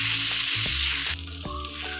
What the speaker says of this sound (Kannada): ಟೊಮೆಟೊ ಕೂಡ ಸ್ವಲ್ಪ ಫ್ರೈ ಆಗಬೇಕು.